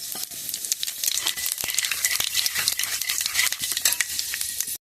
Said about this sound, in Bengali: 5 ফোড়নটা আমার লাল লাল করে ভাজা হয়ে গেছে